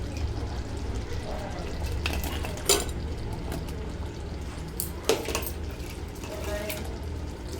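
Fried paneer goes into a boiling chilli gravy and gets stirred, with a couple of sharp utensil clinks against the pan over a steady low bubbling bed.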